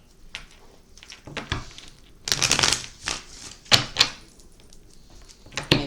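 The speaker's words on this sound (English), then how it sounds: "Sorry if the shuffling is loud" A deck of cards is shuffled up close in irregular bursts of riffling and slapping, some loud and some soft, with short pauses between, and no talk.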